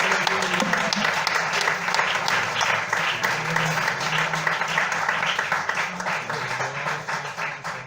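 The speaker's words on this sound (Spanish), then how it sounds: "Dele ese aplauso a Jesús en esta mañana" A congregation claps for Jesus during a Spanish-language church service, a steady moderate applause over a faint low hum, thinning slightly toward the end.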